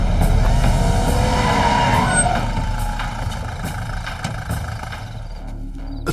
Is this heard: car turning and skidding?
yes